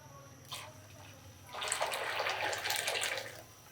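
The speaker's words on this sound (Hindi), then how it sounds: "ये दूसरा जग भी हमने इसमें पानी का डाला।" A jug of water pours into a yogurt and gram flour masala for kadhi, a soft splash followed by a fuller, steady gush lasting about two seconds over a low background hum.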